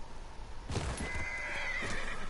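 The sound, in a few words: horse neighing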